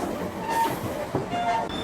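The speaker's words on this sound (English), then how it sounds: "So it looks like our train has extra motive power" A Rocky Mountaineer passenger train runs with extra locomotive power and a generator car behind, heard from aboard as a steady rumble of rolling wheels with faint squeals and clicks.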